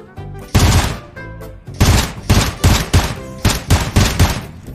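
Gunfire from a mobile shooter game comes as loud, close bursts of rapid shots in a stuttering rhythm, several short volleys separated by brief gaps, with no talk over them.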